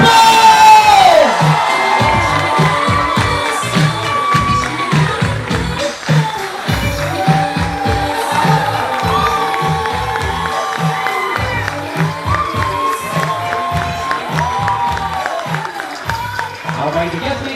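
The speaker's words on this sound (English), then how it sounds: "Have a big round of applause!" Wedding guests at a farm reception in Maryland cheer, whoop and applaud loudly for the newly married couple, a dense crowd roar with shouts and clapping throughout, with voices rising above it.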